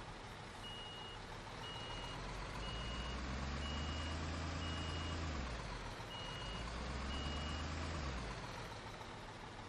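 A cement truck in Construction Simulator 2015 reverses with evenly spaced electronic beeps repeating over a low, rising and falling diesel engine rumble, steady and close with no talk.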